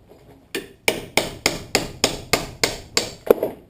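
Metal hammer blows beat a seat belt part held in a vise on a 1989 Ford F-150 driver seat belt job, about nine sharp, evenly spaced strikes, close and loud.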